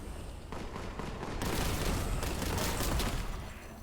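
Bolter fire in Warhammer 40K Boltgun rattles out in a fast, continuous volley of heavy booming shots, swelling louder partway through and staying dense to the end.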